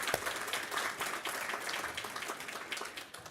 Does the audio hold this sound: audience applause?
yes